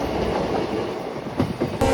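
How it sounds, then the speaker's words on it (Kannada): A goods train engine rumbles past close by near Arsikere, heard from a moving passenger train, with a dense, loud rolling roar and faint clickety-clack of wheels. "ಗೂಡ್ಸ್ ಇಂಜಿನ್ ನೋಡಿ."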